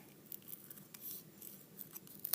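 Scissors snip through a paper circle, cutting away half of it for a claw shape in a collograph craft project; soft, quiet, close-up cuts with small clicks over about two seconds.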